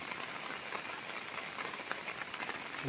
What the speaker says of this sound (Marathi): कंटिन्यूच पाऊस चालू आहे